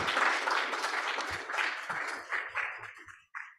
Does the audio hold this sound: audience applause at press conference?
yes